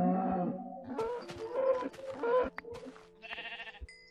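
Sheep in the video game Minecraft bleat in short, wavering calls, a few in quick succession against quiet game sounds, with no talk over them.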